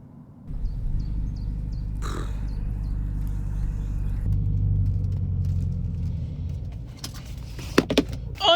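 An electric car drives quietly, its steady low road rumble filling the cabin while crows caw faintly outside; a few sharp knocks and rustles break in near the end.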